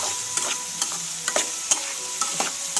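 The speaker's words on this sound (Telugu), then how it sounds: "మంచిగా మొత్తం కలిసేటట్టు కూర అంతా ఉల్లిపాయంతా" Onions and spice powder frying in a pan for a prawn curry, stirred with a spoon that scrapes and taps at an irregular rhythm over a soft, continuous sizzle, close up, with no talking.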